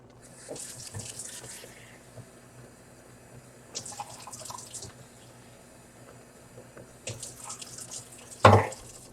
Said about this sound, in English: I added some more water to it, so that way I can sort of spread it out on top.